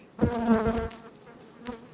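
Honey bees buzz close by in a humming, wavering drone that swells briefly and then fades to a softer hum.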